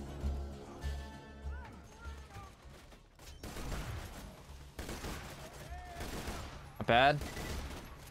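Enemy gunfire pops in bursts during Borderlands 2 Roguelands combat, layered with game music and effects, while someone talks briefly over the shooting.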